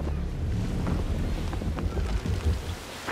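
Sailing ship under half sail in Assassin's Creed III, a steady rushing roar of wind and water around the hull, loud and continuous with no talk.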